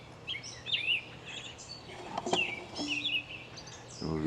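Birds sing outdoors in a chorus of bright chirps and warbling phrases, with several calls overlapping across the whole stretch above a low background hum.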